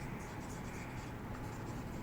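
A pen writing on paper, with totals being filled in on a source document: a steady, close scratching that runs without a break.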